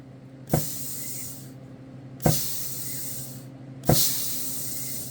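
A run-down John Deere 1830 tractor's PTO clutch gives three distinct clunks a second or two apart, each followed by a loud hissing burst that trails off.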